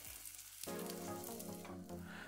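Steady crackling sizzle of an egg frying in hot oil, close and continuous, with a soft clatter near the start.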